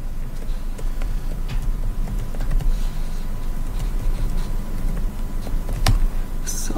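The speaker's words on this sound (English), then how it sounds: "So what I'm doing is I'm just typing like some utterances" Keys clack faintly and irregularly on a computer keyboard as someone types short phrases, the sparse clicks sitting over a steady low room hum.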